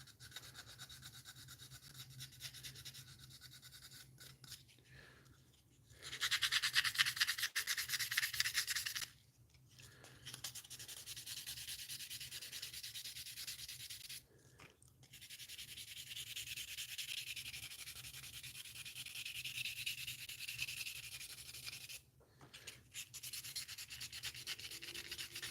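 Sandpaper working a groove on a plastic part of a 1/60 NeoGrade Sazabi model kit, a close, scratchy rubbing hiss in several long strokes separated by brief pauses.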